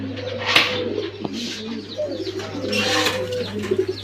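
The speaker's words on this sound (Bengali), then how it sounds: "এখানে দেখতে পাচ্ছেন খুব সুন্দর এক জোড়া পুতুল গোল্লা কবুতর, খুব সুন্দর।" A male and female pair of Putul Golla fancy pigeons coo softly and repeatedly nearby, with low throaty calls over a steady background hum.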